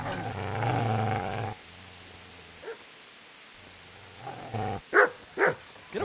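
A dog in the video game Kingdom Come Deliverance growls low and rumbling, then goes quiet before a few short, sharp barks near the end.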